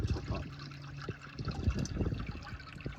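Water trickles and splashes steadily as a garden koi pond is topped up, a soft, continuous pour heard close by with a voice talking over it.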